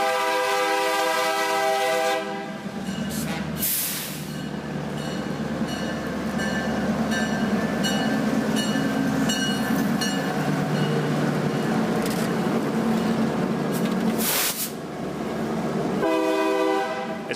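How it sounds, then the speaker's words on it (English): A BNSF local freight train hauling Boeing fuselages rolls through Renton's business district, loud and close, with long blasts of its horn over the continuous rumble and clatter of railcars. "BNSF local fuselage trains first have to roll through the heart of Renton's business district to reach the plant."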